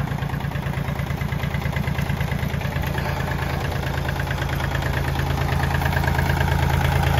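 A Kubota L2250 tractor runs in gear with a steady, close, mid-pitched diesel clatter and vibration and no break in the sound.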